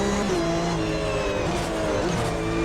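A Porsche Cup race car driven in a sim racing game at the Indianapolis Road Course, its engine droning steadily and close with shifting pitch throughout, alone without talk.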